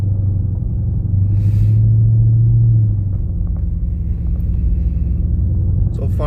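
A Dodge Hellcat Widebody rolling slowly through four inches of snow, heard from inside as a loud, steady low engine rumble with a brief swell in drone partway through.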